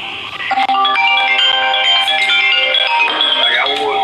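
A telephone rings with a loud, steady electronic melody of sustained tones that runs unbroken for several seconds.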